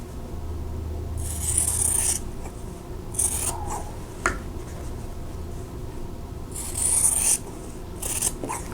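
Scissors snip through quilt fabric, trimming a block to a quarter-inch seam allowance in several separate crisp rasping cuts with short pauses between them, close and without talk.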